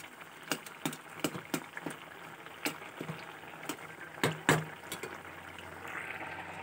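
A vegetarian curry of gourd, potato and aubergine simmers in a pot, giving a steady low bubbling hiss punctuated by sharp pops and splutters, close and alone with no voices.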